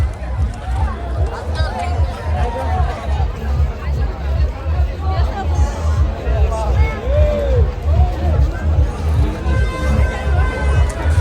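Thick festival crowd babble at the Sakaleshwara Swamy chariot festival temple fair in Sakleshpur, with many overlapping voices and a steady low rumble continuing throughout, loud and close.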